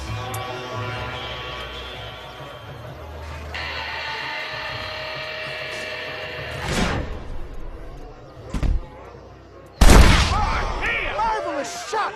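Gunshots in the Western video game Red Dead Redemption: two or three sharp, loud cracks ring out late, the last one booming and echoing, after a stretch of music and character speech.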